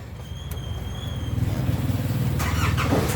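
A Nissan Elgrand engine cranks with a brief squeal and creak, then catches and settles into a rising, rhythmic idle, heard close and alone.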